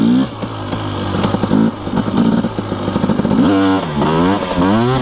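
KTM 250SX two-stroke dirt bike revving hard during wheelie attempts on a mountain trail, a loud, close engine with rising and falling throttle sweeps, sharp blips and climbing pitch toward the end.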